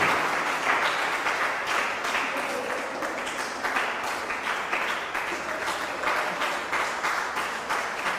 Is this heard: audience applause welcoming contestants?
yes